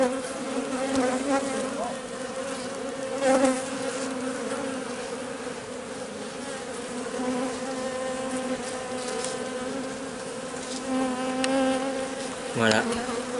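Bees buzz continuously close around a bee rescue, a dense droning hum with individual insects swelling louder as they fly past, with no talking.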